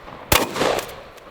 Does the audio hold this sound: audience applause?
no